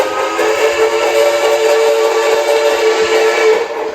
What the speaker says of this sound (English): the speaker could be placed in a different location in the tender, because it does feel like it rattles the tender